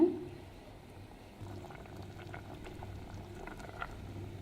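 Soft, continuous bubbling of water boiling with leafy greens in an uncovered pot, quiet and close, with light popping and patter throughout.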